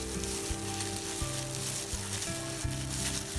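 Balls of mixed mooncake filling fry in hot oil, giving a close, continuous crackling sizzle with small bursts of popping throughout.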